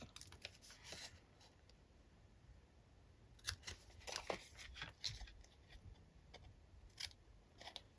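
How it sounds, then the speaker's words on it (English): Scissors snipping loose bits off a handmade paperclip pocket and tag, a series of short crisp cuts in irregular bursts, close and fairly quiet with no talking. "So let's just cut these bits off."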